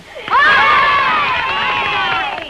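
A young audience at a children's TV club show erupts into loud cheering and shouting, a dense crowd roar of high voices that swells at once and holds steady to the end.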